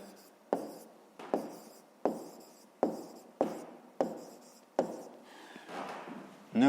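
Pen or marker writing an answer by hand on a surface during a fifth-grade fractions maths exercise, a run of about seven short rhythmic strokes, each a sharp onset fading out, close and clear with no talk.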